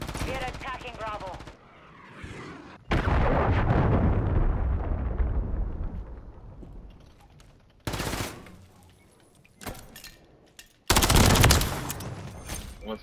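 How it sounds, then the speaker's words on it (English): Cruise missile blasts in MW3 multiplayer, a massive roaring explosion that slowly decays, followed by further sharp bursts and gunfire, loud and close amid voices. "Hostiles launched a cruise missile."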